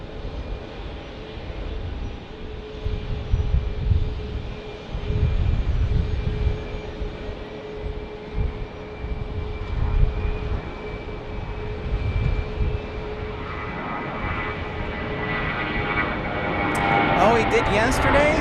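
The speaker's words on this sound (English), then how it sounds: "Our next departure will be American 2900 on an A320 to Columbus, Ohio" An American Airlines A320 departing Phoenix Sky Harbor, its jet engines a steady rumbling roar with a faint whine, growing fuller toward the end, with a voice talking over it.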